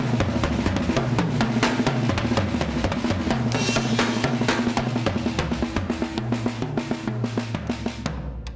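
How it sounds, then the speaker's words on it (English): Rock drum groove with quiet snare grace notes filling the spaces between the main hits, a steady, busy pattern of kick, snare and cymbals alongside a bass line, played without talking. "this is a thing with the grace notes on the snare"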